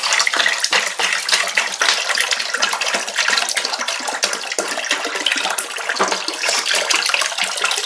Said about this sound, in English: Now I'm just adding the 2 litres